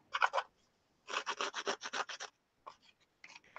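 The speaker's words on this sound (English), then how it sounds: "sanding, I can hear her" Soft rhythmic rubbing strokes come in short bursts, a quick back-and-forth rasp of sanding, faint and fairly close with brief pauses between runs.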